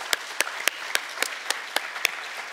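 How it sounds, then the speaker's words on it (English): Regular, evenly spaced claps ring out, about four per second, loud and close over a soft crowd background at a Korean spring festival, no speech. "let's give our AV team a big round of applause."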